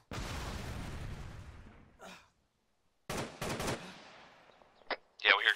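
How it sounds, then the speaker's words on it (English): Bursts of rapid gunfire crackle in a video game, with sharp clustered shots separated by short silences and a brief electronic blip at the end. "Yeah, we hear gunfire."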